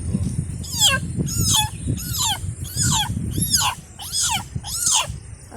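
A human voice mimics a kitten's mewing, giving about seven rising-and-falling meows in a steady series, with low background noise.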